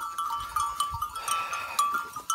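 A flock of sheep on an evening walk bleats in scattered short calls at moderate distance, mixed with soft shuffling and a steady faint tone, no speech.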